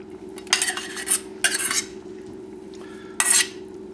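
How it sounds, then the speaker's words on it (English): Mushrooms going into a pot of simmering pinto beans with Italian sweet sausage, stirred with a utensil in three short scraping, clattering bursts over a steady low hum, no talking. "I'm now going to add the mushrooms."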